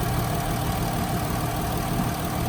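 The brand-new Jasper engine in a van idles with a smooth, steady hum and a faint fine ticking, heard close and continuous with no talk.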